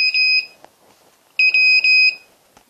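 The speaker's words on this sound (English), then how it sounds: "the audio will come on once every 10 seconds or so. You hear a little blip." Two short bursts of high electronic beeping from a custom-built three-sensor RV water alarm, the second burst slightly longer, with quiet room noise between them.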